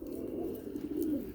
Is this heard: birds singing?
yes